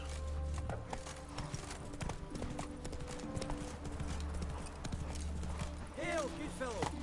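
Horse hooves clip-clop steadily in the video game The Witcher 3, a continuous walking rhythm under a person talking, with a brief whinny near the end.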